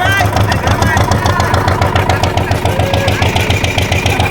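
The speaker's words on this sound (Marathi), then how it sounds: "आपला पण होडी चालू होते" A boat engine idles in a steady, loud mid-pitched rumble with continuous vibration, set at a village Shimga festival outing by the water, with people's voices mixed over it.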